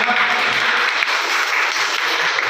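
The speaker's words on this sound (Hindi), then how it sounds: "इसके लिए वेलकम प्लीज तालियां हो जाएगा।" An audience at a school brain development seminar in Mathura breaks into applause, a dense, fairly loud patter of many hands clapping evenly for a couple of seconds without a voice over it.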